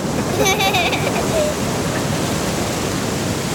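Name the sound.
ocean waves breaking on the shore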